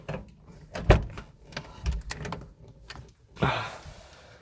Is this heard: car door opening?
yes